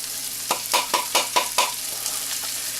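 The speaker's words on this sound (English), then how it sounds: "Okay, we want to sweat the onions." White onions sweating with garlic in a hot pan give a steady frying sizzle, broken by several quick stirring scrapes in the middle of the clip, with no voices.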